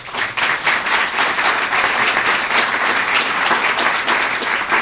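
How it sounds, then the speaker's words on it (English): Sustained applause from a large crowd, dense and steady throughout with no pauses. "Please give them a round of applause."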